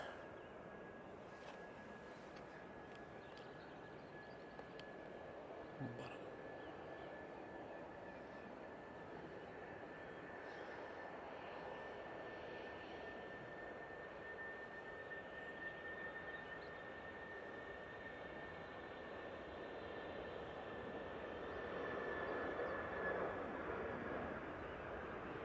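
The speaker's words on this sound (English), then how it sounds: "now on the roll." A British Airways Airbus A319 airliner on its takeoff roll at Manchester Airport, a steady distant jet engine roar with a thin high whine, slowly growing louder over the long run down the runway.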